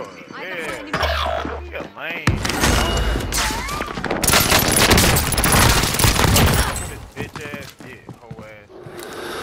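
Gunfire erupts in a Call of Duty: Modern Warfare match: a long, dense burst of close automatic shots rattles in a loud volley. Quieter single shots and game radio chatter come before and after it, and players talk over the action.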